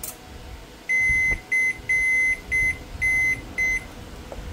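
A repaired microwave oven with a fixed control board starts up, giving six clear, loud electronic beeps of uneven length in a row over its steady low running hum.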